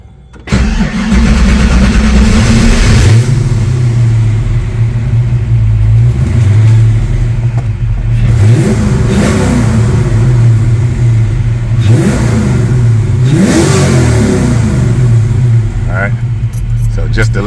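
A 1991 Ford Mustang GT engine, part of a Cobra conversion, starts up and idles with a rough rumble, then is revved several times in swelling bursts that fall back to idle, loud and close.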